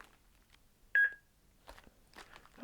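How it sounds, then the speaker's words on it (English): Single short electronic calibration beep from an Amstrad Pen Pad handheld, a clear pure tone standing out in a quiet room, followed by faint handling noises. "See, hear the beep."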